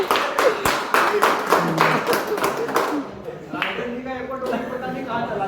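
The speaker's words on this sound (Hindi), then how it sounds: "तालियां बजाओ यार, तालियां की कमी हो रही है यार," Audience clapping during a Hindi-language vlog event, a burst of hand claps over the first three seconds with people talking over and after it.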